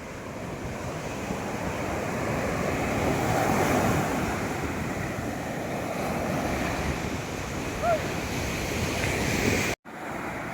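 Ocean waves roll onto Echo Beach at Gokarna in a continuous surf wash with wind buffeting the microphone. There is no talk, and a brief dropout comes near the end.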